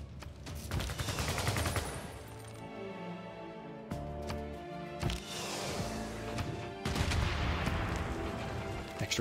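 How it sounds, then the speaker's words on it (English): Spec Ops army units firing on a city in Civilization VI: bursts of rapid automatic gunfire and volleys in several waves, loud and close, separated by brief lulls with metallic clinks. "now we can just start firing on Campinas with our Spec Ops armies"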